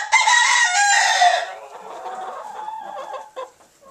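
Backyard hens and roosters kept for eggs and meat cluck and crow up close, a loud crowing burst at the start giving way to quieter, scattered clucking.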